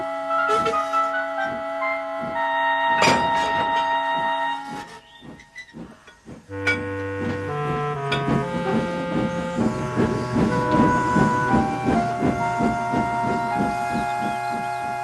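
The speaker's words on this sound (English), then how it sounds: "At last, Skarloey was able to push Duncan and his coaches safely through." A steam engine pushes coaches through, with hissing steam and a whistle tone sounding over layered orchestral music, followed by a brief quieter lull and then rising, rhythmic music with no talking.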